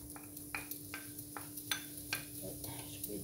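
Onion and garlic sauté quietly in coconut oil with a faint, soft sizzle, while a spoon scrapes and taps the pan in a steady rhythm over a low background hum.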